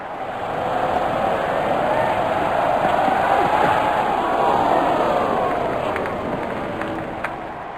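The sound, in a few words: crowd cheering in cricket video game Real Cricket 20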